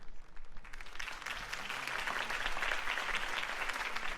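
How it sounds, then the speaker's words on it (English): Crowd applause after Harvey Dent's campaign speech in Batman: The Telltale Series video game, a broad, steady wash of clapping that swells and holds at moderate distance. "If only Mr. Wayne, my campaign's largest backer, could have heard that applause"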